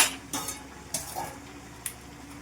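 Vegetables with ginger paste and spices are stirred in a pan for Sankranti cooking, a spoon scraping and clinking against the metal several times at an uneven pace, up close over a low background hiss.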